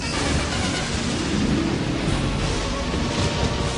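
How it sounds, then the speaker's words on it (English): Dense, steady rain hisses and pelts down without a break, with a low rumble like distant thunder underneath. "A ferocious storm took the third tree by surprise. Rain pelted the earth for days."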